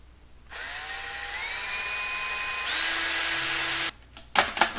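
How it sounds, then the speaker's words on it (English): A power drill whines steadily for a few seconds, its pitch shifting up as it bores a 1/16 inch hole in a model rocket part, then stops, followed by brief clattering. "All you do is drill a 1/16 inch hole and stick in one end of the toothpick"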